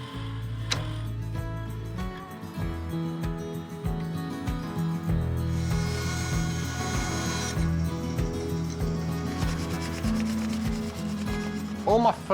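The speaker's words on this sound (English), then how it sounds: "I'm turning the bamboo beading on the lathe." A wood lathe spins timber into faux bamboo beading, with a steady motor hum under repeated rubbing and scraping from the chisel against the turning wood, close up and continuous.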